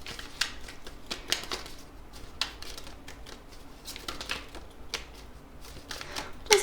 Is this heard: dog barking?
no